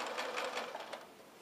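A sewing machine stitches a seam along a pettiskirt layer, a brief steady run of rapid needle chatter at moderate volume with no talking.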